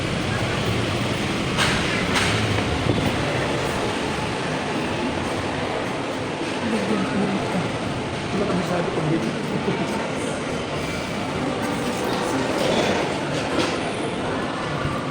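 An MRT-3 metro train rumbles past with a steady, broad roar and faint rail clatter, while people talk briefly nearby.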